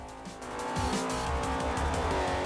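An A-class muscle race car in a racing video game roars with a deep, throaty engine that builds steadily and holds loud, with faint tire squeal under the revving.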